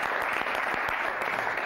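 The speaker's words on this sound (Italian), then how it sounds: "Mi fa anche applaudire tantissimo." Studio audience applause in an Italian TV sports broadcast, a steady dense wash of clapping that stays loud and even throughout, with no voices over it.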